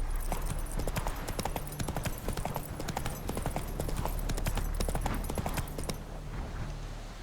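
Roach the horse trotting in The Witcher 3, with a steady, brisk clip-clop of hooves over a low ambient bed. The hoofbeats run for about six seconds, then stop abruptly.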